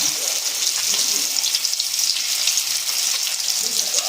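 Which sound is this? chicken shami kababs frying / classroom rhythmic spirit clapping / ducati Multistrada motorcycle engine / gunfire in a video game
chicken shami kababs frying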